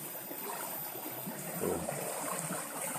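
A river stream flowing outdoors, a soft continuous wash and trickle of water at moderate distance, steady and fairly quiet with no speech.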